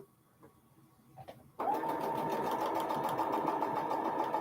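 A sewing machine starts abruptly after quiet handling sounds, then runs steadily with a loud, even, rapid mechanical whir close by.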